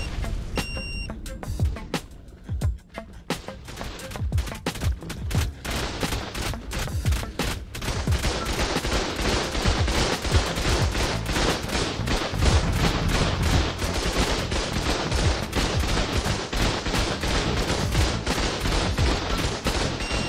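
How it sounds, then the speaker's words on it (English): Base turrets in ARK fire relentlessly at a Stego, a dense rapid stream of gunfire that starts scattered and builds into a continuous loud barrage lasting many seconds. "The turrets are going to shoot it"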